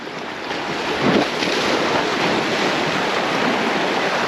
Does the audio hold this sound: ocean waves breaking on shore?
yes